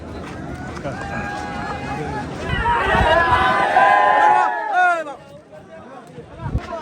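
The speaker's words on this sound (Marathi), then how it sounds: "पाहता भयानक गर्दी आहे जोडी पाहायला" A large, noisy crowd at a Vidarbha bullock cart race surges, with overlapping shouts and cheers rising to a loud peak midway and then falling back to scattered calls and chatter.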